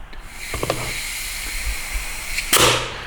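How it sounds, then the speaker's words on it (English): Regulated shop air at 35 psi blown into a 68RFE transmission drum, giving short sharp hissing bursts, the loudest blast near the end, against a steady background hum. "we're going to apply our regulated shop air of 35 psi to the drum"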